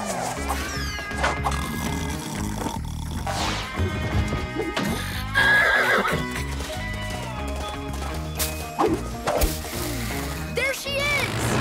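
A cartoon mare whinnies and gallops amid crashes and thwacks, with voices talking and music over the busy action.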